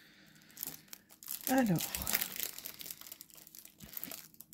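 Plastic packaging of a diamond painting kit being unwrapped, crinkling and tearing in irregular bursts close up, with someone speaking French over the rustling.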